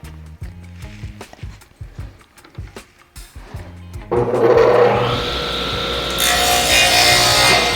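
A saw cuts through a wooden sill at a 45-degree angle on a cutting table. Light scraping strokes give way to a loud, sustained, close buzzing cut that continues to the end.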